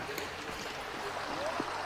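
Snowmelt stream running through a snowy winter valley beside a forest trail, giving a steady, close, broadband rush of flowing water with small gurgles and no voices.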